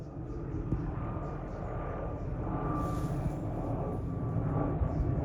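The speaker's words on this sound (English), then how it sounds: "That helo's out here for us." A helicopter flies overhead at an outdoor rivalry football game, giving a steady low rotor and engine rumble. It stays fairly faint and holds steady for several seconds with a slight swell.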